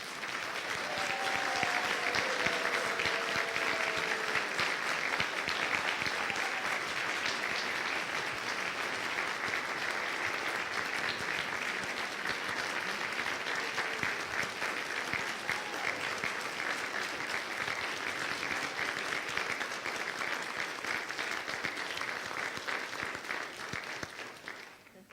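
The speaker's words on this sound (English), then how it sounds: "would you stand and allow us to give you a round of applause" Sustained audience applause honoring Bishop Kathy Chalmers at a church service, steady and full for about twenty-five seconds, with a few faint whistles early, then tapering off at the end.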